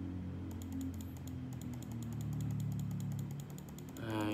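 Fingers tap out a transaction code on a computer keyboard during bookkeeping data entry, a quick run of soft, close keystrokes in an even rhythm, with brief pauses between groups of presses.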